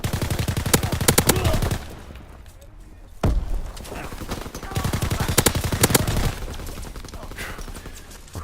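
A favored weapon firing in Call of Duty WWII: repeated rapid bursts of automatic gunfire rattle loudly in several volleys, with a short lull in between, partly under someone talking excitedly.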